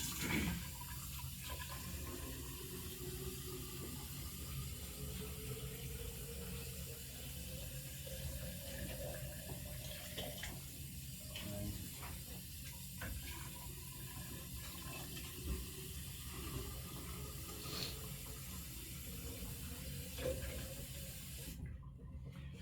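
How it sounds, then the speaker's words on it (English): Tap water pours steadily into a container from a high-flow nozzle, a continuous rushing stream that holds at an even level throughout and stops abruptly at the very end. "So I'm going to fill this with water, which hopefully will be around about 19 degrees or 20 degrees."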